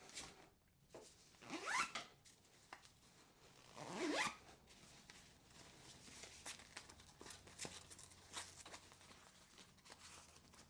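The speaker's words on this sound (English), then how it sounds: "So then you can zip it up." A zipper being drawn along a garment folder on a travel bag, two distinct rising zips about two seconds apart, close and fairly quiet, followed by soft rustling and handling noises.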